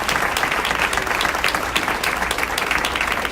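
Sustained audience applause fills a community breakfast award event, dense steady clapping from many people with no talk over it.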